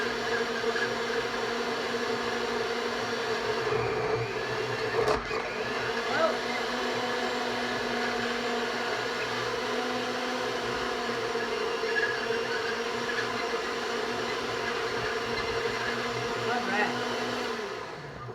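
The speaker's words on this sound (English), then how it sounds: "I still have an old school blender." An old blender whirs continuously with a loud, steady buzzing motor drone that barely changes throughout.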